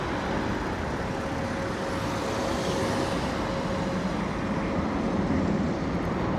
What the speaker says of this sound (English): Oi, oi, steady on there with the Airbus A220, Air France